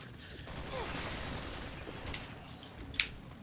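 Gunfire in the video game Resident Evil 6: a dense, steady wash of shooting and combat noise, capped by one sharp, louder shot near the end.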